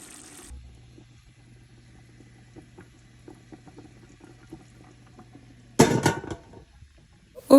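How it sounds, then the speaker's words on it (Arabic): Water is poured into a pot of chicken and rice for Saudi kabsa, a sudden loud splashing gush lasting under a second after a stretch of quiet kitchen hum. "دابا غادي نزيد الماء وغادي نسد حتى يطيب ليا الدجاج"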